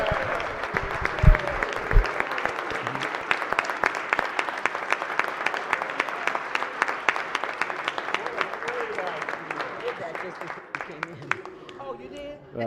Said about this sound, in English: Let's stand and give please. our law enforcement officers a round of applause.